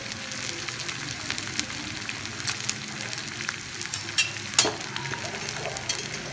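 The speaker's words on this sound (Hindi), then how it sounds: "तो ये हमने घी गरम करने रख दिया है बिल्कुल धीमी आंच पे" Ghee warming in a pan over a very low flame, giving a soft, continuous crackle and sizzle with scattered small pops, close and fairly quiet.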